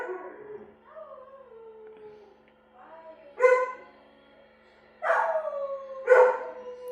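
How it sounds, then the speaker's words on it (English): A pet dog howls at home, with long wavering drawn-out howls, then louder yowling bursts as another dog joins in near the mic, while a person talks over part of it. "That's Molly howling now"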